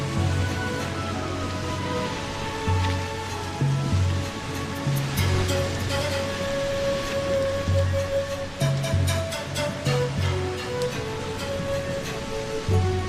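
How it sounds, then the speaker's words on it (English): Steady roaring wash of heavy surf off a Peruvian peninsula where two ocean currents meet, waves breaking continuously, with faint tonal sounds underneath. "the heavy surf that is created by the meeting of 2 different ocean currents in front of the peninsula"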